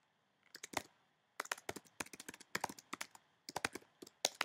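Someone types a caption on a computer keyboard, with quiet, close bursts of rapid key clicks separated by short pauses.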